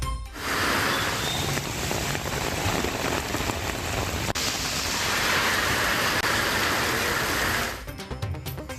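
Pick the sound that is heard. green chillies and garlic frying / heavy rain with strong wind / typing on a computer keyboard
heavy rain with strong wind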